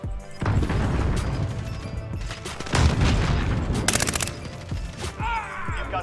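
Explosions and crashing blasts in a Call of Duty Warzone match, several loud booms and impacts rolling over about six seconds amid continuous game noise.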